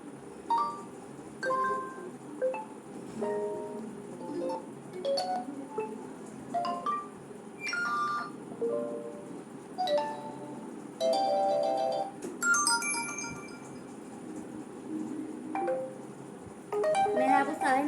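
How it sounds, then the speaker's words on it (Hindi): Notification tones from a realme GT 5G phone played one after another, a sequence of short melodic chimes and bright synthetic jingles, each tone distinct, against a steady background hiss. "मैंने आपको सारे नोटिफिकेशन साउंड प्ले करके दिखा दिए हैं।"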